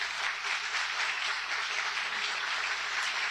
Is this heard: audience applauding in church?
yes